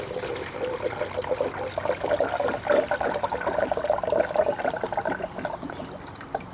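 Coolant pours steadily from a jug into the radiator of a Lexus GX460, a continuous gurgling trickle at close range with no voices.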